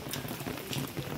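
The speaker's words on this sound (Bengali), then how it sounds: "দেখো বৃষ্টি, দেখো" Rain patters steadily on a surface, a soft, dense, even wash of drops that lasts about a second.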